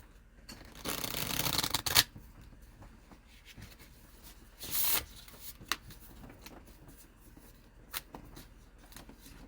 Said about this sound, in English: let's go ahead and get these shuffled.